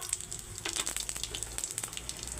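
Panch phoron spices drop into hot mustard oil in a kadai and sizzle as a soft, crackling hiss with quick pops that stays faint and steady throughout.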